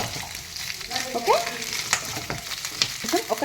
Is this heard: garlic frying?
yes